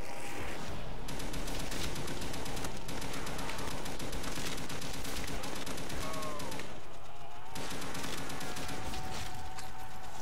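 Rapid automatic gunfire in Call of Duty Zombies, dense bursts of shots hammering almost continuously at close range with a brief lull near the middle, loud and unbroken over the game's ambient soundtrack.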